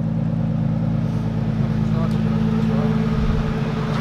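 A 400-horsepower Nissan S15 with an RB25 engine and a screamer pipe idles in a steady, loud low drone with a constant hum close by while people talk over it.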